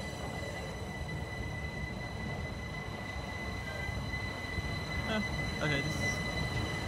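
A train rolls through a station at Haywards Heath on its way to Brighton, a steady low rumble with a thin high wheel squeal and brief metallic clatters toward the end, fairly distant and continuous.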